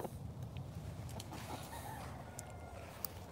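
Chickens in a transport basket cluck and crow over steady low rustling, with a few brief sharp calls standing out against continuous background noise; no talking.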